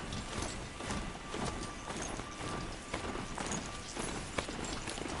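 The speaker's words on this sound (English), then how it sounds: "I'm riding a horse with one thumb." Rhythmic clip-clop of horse hooves at a steady trot in the video game Horizon Zero Dawn, fairly close, with a faint underlying hum and no speech.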